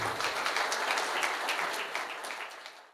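An audience applauds a doctor being welcomed at a women's rights forum, with full, even clapping from many hands that fades near the end of the short burst, with no voices over it.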